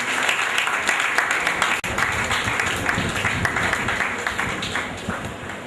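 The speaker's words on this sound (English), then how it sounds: "Please, a round of applause for him." A seminar audience breaks into loud, sustained applause, a dense steady wash of many hands clapping together with only a brief dip partway through, filling the hall throughout.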